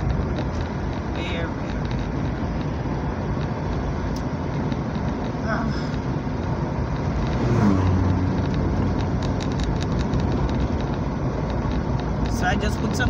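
Car driving along a road, a loud steady engine and tyre rumble filling the whole stretch, with a brief swell around the middle as it passes or accelerates.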